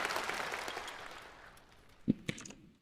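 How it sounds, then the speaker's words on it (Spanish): Faint applause from the audience at a national Communist Party congress in China, a soft spread of clapping that fades out, followed by a couple of sharper isolated claps or knocks. "La gente aplaude."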